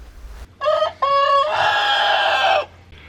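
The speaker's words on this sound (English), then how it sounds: "I heard the rooster crow for the very first time." A rooster on a homestead crows nearby for its first time, a loud stuttering call that rises and then holds a long drawn-out note before cutting off.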